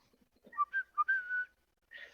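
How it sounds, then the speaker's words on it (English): A person whistling a short, bright melodic phrase of several quick notes and one held tone, close and clear, followed by a brief pause and another whistled note. "Humans are known to be able to whistle."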